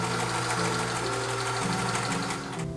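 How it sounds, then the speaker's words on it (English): A serger sewing machine stitches fabric for a sewing project, running steadily and loudly with a dense mechanical whir and rapid rhythmic clatter that never stops, with no voices over it. "I'm just going to use my serger and I think it will work just fine."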